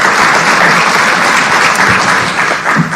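A crowd at a housing expo and conference claps in a dense, loud, sustained burst of applause that holds steady for a few seconds without talk.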